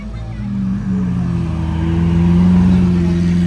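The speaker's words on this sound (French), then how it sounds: "Et lui, il a un bête d'échappement aussi." A car with a loud exhaust passes close by at a car event, its steady, droning engine note swelling and growing louder throughout, with faint voices in the background.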